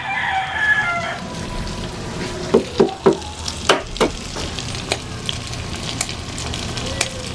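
Two eggs are scrambled and fried with seasoned ground beef in a hot pan: a constant sizzle runs under several sharp scraping and tapping knocks of a utensil against the pan, with a few louder strikes bunched in the middle.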